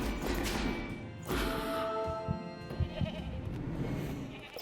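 Sheep in an indie video game about collecting sheep into a truck, several bleats in succession with a few dull thumps in between, clear and close over a constant background.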